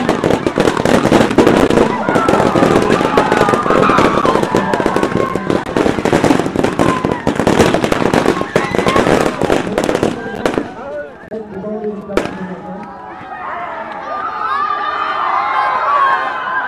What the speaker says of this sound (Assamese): এয়া ফটকাৰ শব্দ